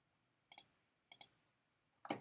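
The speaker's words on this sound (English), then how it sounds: "So I'm going to click, click." A computer mouse clicks three times in a quiet room, with single sharp, faint clicks spaced about half a second apart.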